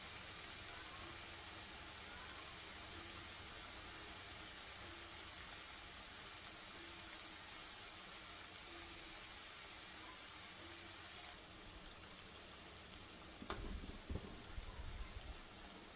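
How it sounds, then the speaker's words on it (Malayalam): Wheat flour dough balls frying in hot oil for snacks: a faint, steady hiss and sizzle runs throughout, with a brief clatter near the end. "ഉരുട്ടി വെച്ച ഗോതമ്പിൻ്റെ ബോളുകളെല്ലാം ഇതുപോലെ എണ്ണയിലേക്ക് എല്ലാം ഇട്ട് കൊടുത്തിട്ടുണ്ട്."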